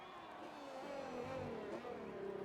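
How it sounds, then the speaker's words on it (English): A Can-Am race car on track in a Belgium round of the CRL T2 series downshifts to third gear, its throaty engine note rising and falling close by, loud and continuous with pitch sweeps across the pass. "third gear downshift, and you can hear the throatiness of the car as he comes into speakers"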